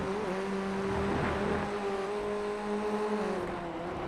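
A Formula Ford 1600 race car at Watkins Glen passes with a steady, sustained engine drone that swells slightly and then settles under a constant background hum, with no talk over it.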